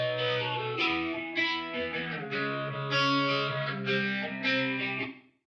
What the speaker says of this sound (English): send some of my guitars into this reverb just to give them a little bit of a room sound